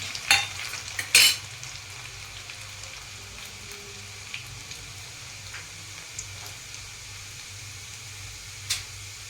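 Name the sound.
dried garlic sizzling in hot oil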